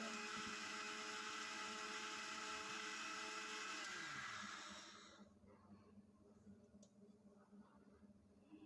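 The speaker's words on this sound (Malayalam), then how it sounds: "ഇത് നമുക്കൊന്ന് മിക്സിയിലിട്ട് അരച്ചെടുക്കാം." A kitchen mixer grinder whirs loudly and steadily as it blends tomato chutney for about five seconds, then winds down and stops, leaving quiet room noise.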